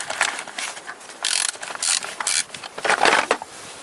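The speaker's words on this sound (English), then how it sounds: "bolt in 10mm socket, and I open that." A ratchet with a 10mm socket clicks in quick bursts while loosening a bolt on a Toyota Corolla VVT-i engine, close and crisp with short pauses between strokes.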